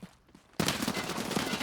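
A burst of rapid automatic gunfire erupts in a video game after a brief quiet moment, dense and loud, continuing to the end.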